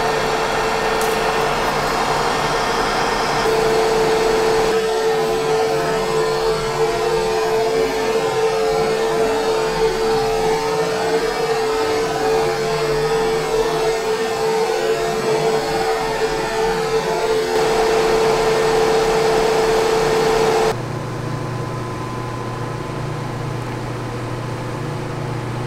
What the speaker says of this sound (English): Take a light pass with a little bit slower feed rate so it makes a nice surface finish